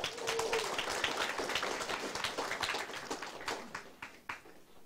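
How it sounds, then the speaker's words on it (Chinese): An audience claps together at a public affairs lecture, a dense burst of applause that gradually thins into scattered, fading claps. "感谢大家家己鼓掌起来"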